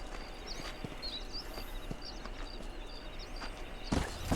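Horse hooves clip-clop faintly in Red Dead Redemption, soft steady footfalls under ambient outdoor noise and bird calls, with a louder thump at the end.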